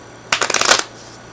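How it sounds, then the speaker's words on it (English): Item cards for the Final Girl board game shuffled once in a quick riffle, a brief crisp burst of flicking card noise about half a second long, close and alone. "shuffle the item cards."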